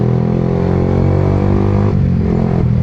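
A 2025 Yamaha R15M motorcycle with a 155cc liquid-cooled engine runs at a steady, loud, close-up drone with a slight dip in pitch near the end. No voices are heard.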